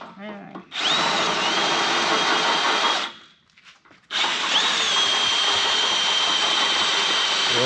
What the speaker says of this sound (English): My least favorite thing in the world, drilling holes